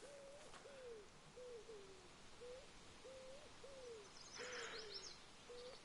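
An owl hoots repeatedly in the video game The Hunter: Call of the Wild, a series of about eight soft, evenly spaced calls at moderate distance over a quiet outdoor ambience, with a brief higher chirping near the end.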